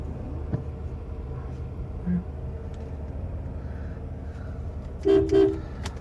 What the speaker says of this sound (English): Car's horn works.